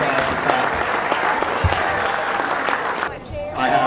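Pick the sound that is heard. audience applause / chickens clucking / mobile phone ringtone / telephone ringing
audience applause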